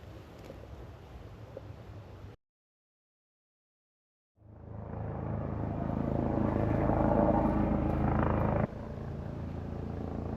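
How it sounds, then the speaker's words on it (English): A steady low mechanical rumble drones on, cuts out to silence for a couple of seconds, then swells back louder and broader, like a helicopter passing overhead. "The helicopter's back."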